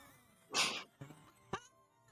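A person imitating a dog's bark, three short yelping barks spaced about half a second apart, the first loudest and the rest quieter, with no other talk.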